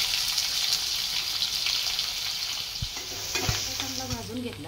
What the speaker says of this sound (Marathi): आता हा खडा मसाला टाकून घेते मी आणि त्यानंतर लगेच कांदा टाकून घेते।